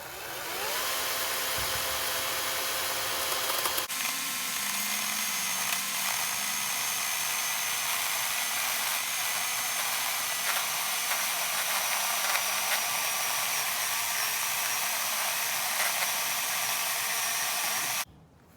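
A saw works steadily through wood being cut into planks for a wooden table, a loud continuous mechanical drone that carries from start to finish and stops abruptly at the end, with no talking.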